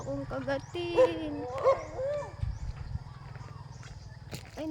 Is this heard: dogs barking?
yes